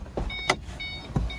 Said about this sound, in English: Power locks and power windows. Here they are for the driver's side.